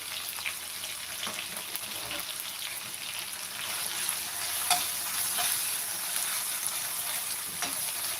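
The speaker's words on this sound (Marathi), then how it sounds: "आणि छान असं परतून घेत आहोत" Onion and tomato sautéing in a pan with green chili thecha, a steady close frying sizzle with faint stirring scrapes, continuous and even throughout with no talking.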